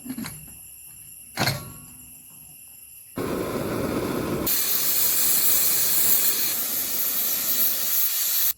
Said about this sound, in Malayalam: കുറച്ച് വിനാഗിരി കുറച്ച് ഉപ്പ് അടച്ചു വെച്ച് വേവിച്ചെടുക്കാം